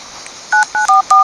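Four short touch-tone beeps from a phone dialing a call in a video game, each a crisp two-tone chirp in a quick, slightly uneven sequence over quiet background hiss.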